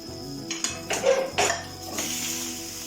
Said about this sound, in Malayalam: ഒരു ചട്ടി വയ്ക്കാം